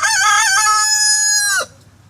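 A single loud rooster crow rings out up close, a rising then sustained cock-a-doodle-doo that cuts off abruptly into near silence.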